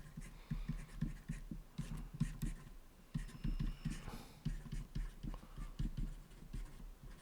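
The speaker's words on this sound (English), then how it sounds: "let me just quickly write down the first screen identity." Equations being handwritten, likely with chalk or pen on a board, in a series of short rhythmic scratching strokes, close and fairly quiet.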